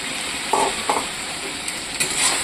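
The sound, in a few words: spices and potatoes frying and being stirred in pan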